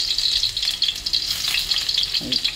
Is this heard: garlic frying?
yes